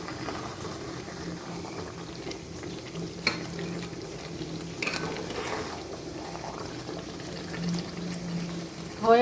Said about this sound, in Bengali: একটু পরপর নাড়া দিতে হয়, নাইলে তো নিচে ধরে যায়।